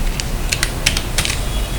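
A computer keyboard clicks through a quick, uneven run of about a dozen keystrokes during accounting data entry in Tally Prime software, sounding close over a steady background hiss.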